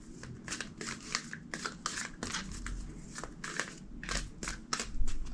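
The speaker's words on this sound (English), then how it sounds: "2 more shuffles." A deck of tarot cards being shuffled close up, in repeated quick riffling bursts of papery flicking and slapping with short pauses between them.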